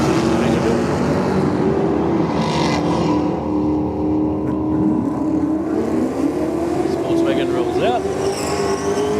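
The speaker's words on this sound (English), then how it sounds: "Just running the car naturally aspirated for the moment" A naturally aspirated drag race car makes a pass at a drag strip, its engine a loud, sustained roar that rises in pitch as it accelerates, with a second engine note and crowd sound mixed in throughout.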